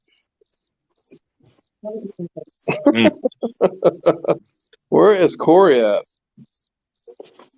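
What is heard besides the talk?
crickets chirping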